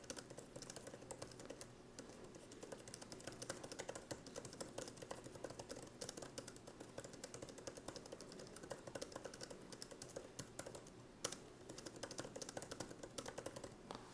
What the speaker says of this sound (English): I just typed some random stuff